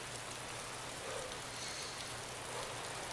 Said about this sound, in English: Oh my God, it's raining, isn't it?